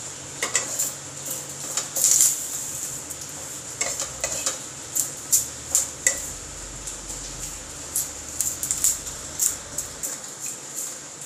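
Whole dried curry leaves, stems still on, being dry-roasted in a hot pan, with repeated scraping and clinking strokes of a spatula against the metal over a faint, steady crackle, close and moderately loud.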